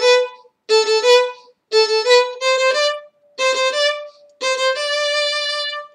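A bowed string instrument plays a phrase with its first note doubled, crisp repeated bow strokes heard close and unaccompanied, in short groups separated by brief gaps.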